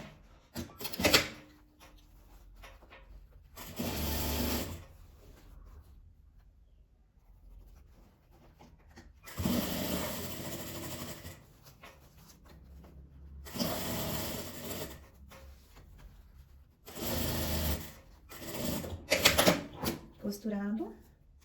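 A sewing machine fitted with a presser foot stitches a seam on a small multipurpose fabric pouch made as a Christmas favor, running in several short bursts separated by pauses, with a person talking in between.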